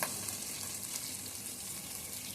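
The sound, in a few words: onions sautéing in pan for chicken biryani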